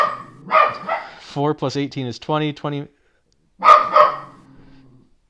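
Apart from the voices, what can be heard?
pet dog Champion barking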